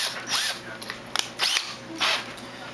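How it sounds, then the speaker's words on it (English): Three short bursts of a whining power drill with a 3/8 inch bit drilling metal for a backpacking camp stove rise and fall in pitch, with small clicks and knocks in between, close by. "The next step I like to do is you'll take your 3/8 inch drill bit,"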